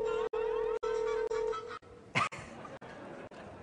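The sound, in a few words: cell phone ringtone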